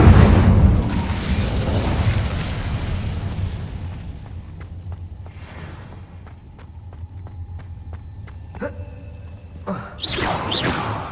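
An Incendio fire spell cast in the Hogwarts video game, opening with a loud fiery burst and rumble that tapers off, followed by quieter footsteps and a couple of sharp bursts near the end, with no talking.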